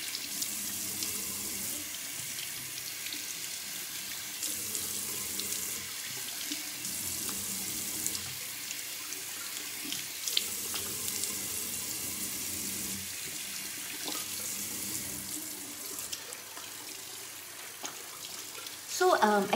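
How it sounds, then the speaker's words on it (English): A bathroom tap runs steadily while a face mask is rinsed off, a constant close hiss of water with splashing from hands, and people talking over it. "Now I'm just going to wash it off."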